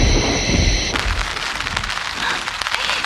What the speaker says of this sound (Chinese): 现在开始下雨了耶。